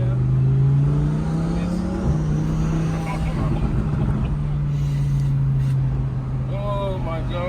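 Twin-turbo Audi R8 supercar pulling hard under acceleration from inside the cabin, a loud steady engine drone holding one pitch with a brief shift break, while people talk over it.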